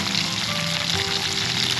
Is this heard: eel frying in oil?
yes